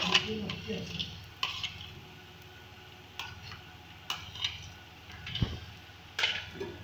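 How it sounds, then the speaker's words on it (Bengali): Fried dry fruits stirred into makhandi halwa in a pan, with a faint background sizzle and a few soft scrapes and clinks of a spoon against the pan at irregular intervals. "ড্রাই ফ্রুটসগুলো দিয়ে আবারও ভালো মতন করে নেড়ে নেব"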